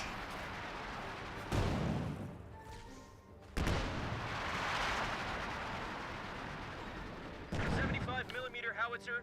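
A Sherman tank firing a barrage in Company of Heroes 2, heard as three heavy blasts spaced a few seconds apart, each a sharp crack followed by a rumbling tail over a steady battle din, with a voice talking near the end.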